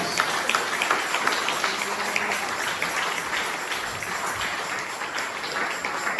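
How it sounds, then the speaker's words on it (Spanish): A church congregation breaks into steady, dense applause that fills the whole stretch at an even, fairly loud level, with no clear voice rising above it. "aquí hay unos aplausos a su casa"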